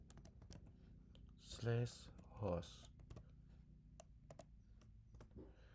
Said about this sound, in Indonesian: Kita ketikkan sudo vim etc/host